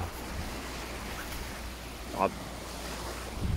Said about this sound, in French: T'auras peut-être même le bruit des vagues avec